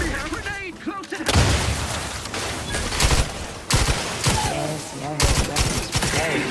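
In The Outer Worlds 2 video game, heavy gunfire bursts in dense volleys alongside booming grenade blasts, loud and close, with sharp shots recurring throughout and a voice talking between them.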